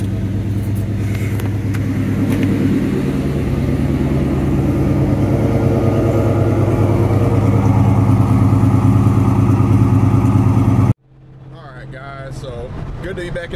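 A 1999-2004 Ford Mustang with a 2-valve V8 and Pacesetter long tube headers idles close by with a loud, steady, lumpy rumble that cuts off abruptly near the end, leaving a faint quieter hum.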